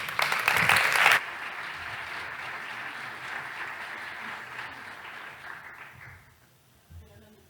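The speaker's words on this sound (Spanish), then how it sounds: "Un aplauso." Audience applause greeting a speaker at a Spanish-language talk on decolonizing artificial intelligence, a loud burst of clapping that quickly drops to a sustained, softer wash and fades out over several seconds.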